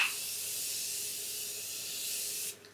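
A steady hiss of makeup setting spray misting continuously for about two and a half seconds, close and even, then cutting off abruptly to near quiet.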